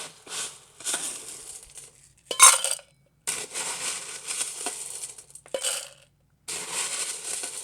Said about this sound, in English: First, you fill up your shaker. Your shaker with ice.